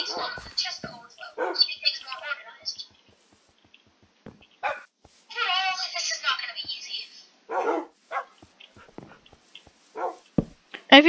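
Dogs in a Minecraft-style video game bark and yip in short bursts, loud and close, with gaps of quiet between them.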